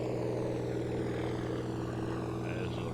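Steady droning hum of a propeller airplane engine in a flight simulator game, continuous and even throughout with a constant low rumble and no pauses.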